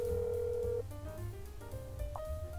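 Telephone in the horror video game That's Not My Neighbor rings on unanswered, a steady electronic tone that breaks into shorter chirping notes over a low background hum.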